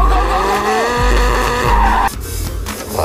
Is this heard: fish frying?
no